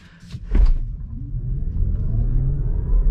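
A Tesla Model Y Dual Motor AWD launches hard from 0 to 60, its steady low electric rumble and rising whine building and holding loud and close, with no engine roar and no one talking.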